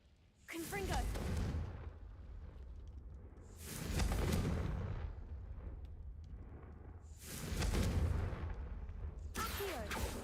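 Confringo explosive spell blasts from a Hogwarts Legacy game session: three loud booming bursts with rumbling low-end decay, spaced a few seconds apart, with a sharp crackling onset on each.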